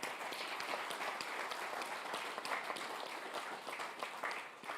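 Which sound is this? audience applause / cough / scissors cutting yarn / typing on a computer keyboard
audience applause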